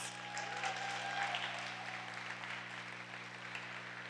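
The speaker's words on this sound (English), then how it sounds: "Can we give her a big round of applause?" Audience applause at a conference event on Asian women at work, a faint, steady patter of clapping from a moderate crowd under a constant electrical hum.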